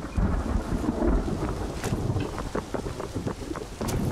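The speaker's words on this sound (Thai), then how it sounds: "ฟ้าผ่า" Thunder rumbles through a rainy, windy storm in the video game Ring of Elysium, a broad continuous low roar with rain hiss and wind buffeting, staying steady and fairly loud throughout with no talking.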